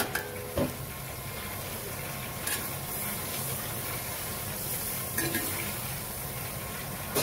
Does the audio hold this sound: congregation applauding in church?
no